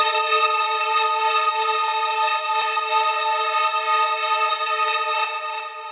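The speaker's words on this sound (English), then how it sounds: "Now we have this break sweep." A break sweep effect from a techno track gives a bright, dense, string-like synth wash with shimmering layered tones held steady, then tapering softer at the end, with no talking over it.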